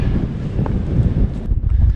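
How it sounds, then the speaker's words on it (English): Strong wind on the exposed hilltop of West Kip in the Pentland Hills buffets the microphone in a constant, rumbling roar with gusty fluctuations and no voices. "It's really exposed up here, so I don't think I've ever been up here when it's not been windy."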